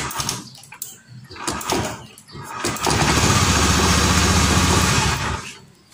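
A Honda Scoopy scooter with new double clutch linings cranks on its electric starter and catches, the small engine buzzing up to a loud steady close revving drone for a few seconds before dropping off.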